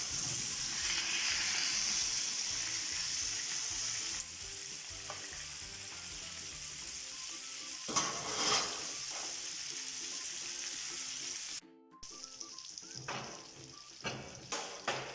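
Steady sizzling of beef rolls wrapped with pastırma frying in a pan, with occasional stirring and scraping sounds; continuous and fairly close, with a brief dip near the end.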